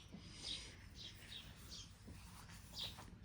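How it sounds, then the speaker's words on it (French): Faint, distant birds chirp outdoors in a few short high tweets spaced a second or so apart over a quiet background. "vous entendez les cuicuis des oiseaux derrière."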